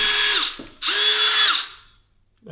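Repaired Dewalt DCD778 cordless drill whirring in two close, loud bursts with a brief pause between, each spinning up and winding down, followed by quiet.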